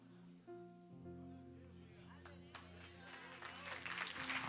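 Church congregation beginning to applaud during a Monday evening service, scattered claps rising and thickening beneath sustained keyboard chords and a voice, growing loudest at the end.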